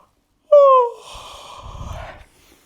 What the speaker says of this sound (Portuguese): E quando nos espreguiçamos e damos um grande bocejo